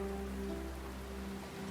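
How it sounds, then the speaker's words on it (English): Steady rain falls outside a corridor, a soft continuous patter with a low constant hum beneath it, no voices, at a moderate, even level throughout. "A soothing rhythm of falling rain accompanied outside that corridor."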